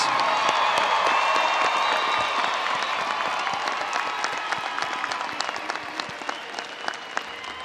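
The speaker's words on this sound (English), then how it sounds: "let's give the class of 2022 another big round of applause" Sustained applause from a large crowd at a university commencement, dense clapping filling the space and tapering off slightly toward the end.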